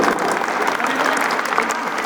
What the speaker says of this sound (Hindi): एक बार जोर से तालियां हो जाएं।